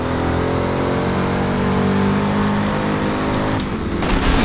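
Chevrolet Camaro SS with a 6.2-litre engine roaring at sustained high revs during a race in the Driver: San Francisco video game, a loud steady drone that shifts slightly near the end.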